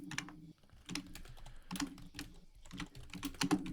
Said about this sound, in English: So we can hear you typing.